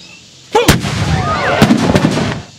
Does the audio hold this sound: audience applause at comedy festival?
no